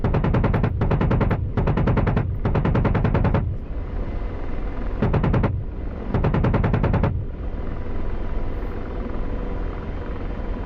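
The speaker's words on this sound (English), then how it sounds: "We're gonna fire some rounds off" Rapid automatic gunfire in a VR video game, several loud sustained bursts separated by short pauses, each one dense and close, with a low rumbling tail between the volleys.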